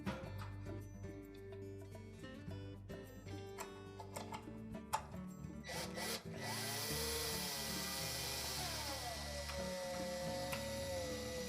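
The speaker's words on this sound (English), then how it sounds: "then we'll install at least one of these screws" Scattered light clicks and handling noises at a Whirlpool washer's console give way to a close, steady power-driver whine as a screw is driven in to secure the replacement timer.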